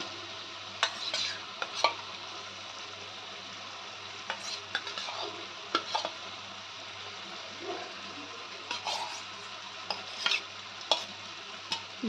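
Pieces of Gota lote fish sizzle steadily in hot oil in a pan, with a constant frying hiss broken by occasional sharp crackles and spatters, close up with no voices.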